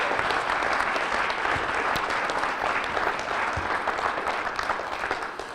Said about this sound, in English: Give that guy a round of applause